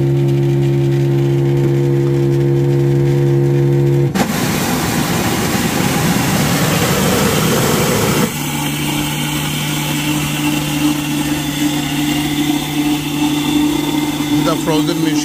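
Dunkin frozen coffee machine blending a medium frozen coffee, a loud steady motor whir that shifts into a rougher churning blend midway, then settles back to a steady hum.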